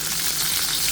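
Onions frying in a pan for ginataang kalabasa with shrimp, a steady close sizzle with soft crackle running unbroken through the short moment, no voices.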